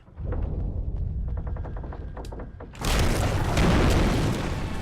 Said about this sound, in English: The floor is gonna drop out, and we are gonna drop a flashbang.